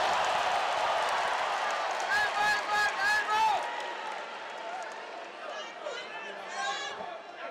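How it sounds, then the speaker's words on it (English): A crowd at a ONE Championship mixed martial arts fight cheers and claps in a loud, rolling roar that peaks midway, then eases, with a commentator's voice running over it. "Greeted to loud cheers from the crowd here"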